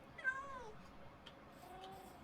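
Several cats meow in Minecraft, a couple of short rising mews close up over a quiet game background, with one faint extra tick.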